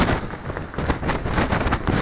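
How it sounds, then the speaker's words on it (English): Strong wind of about 25 knots gusting to 30 buffets a sailboat at sea among large, regular waves near the Marshall Islands, a constant loud broadband roar with surging gusts. "lots of wind and waves"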